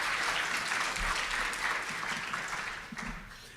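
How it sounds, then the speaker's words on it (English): A crowd applauds steadily for an advisory committee at a scientific conference's opening session, with dense, continuous clapping that fades gently toward the end. "Let's have some applause for the advisory committee."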